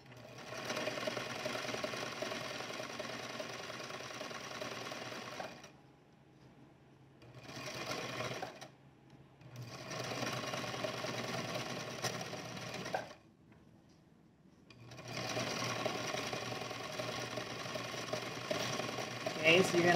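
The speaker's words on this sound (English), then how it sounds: "you're sewing it on the other fold where you folded it" A sewing machine stitches fabric around in a circle, running in bursts of steady motor hum and needle chatter separated by short pauses, with a voice talking in the background.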